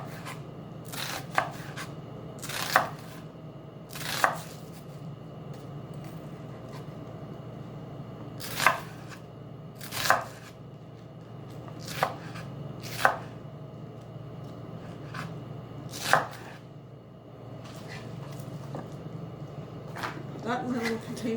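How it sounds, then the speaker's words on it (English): A knife chops through slices of onion on a cutting board at home, sharp distinct thuds spaced a second or more apart over a low steady background hum. "I'm just going to cut slices of the onion."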